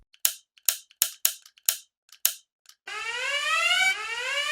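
Alarm sirens blare in an animated movie: a run of sharp, repeated electronic chirps, then a loud, steady wailing siren that holds without pause, with no voices.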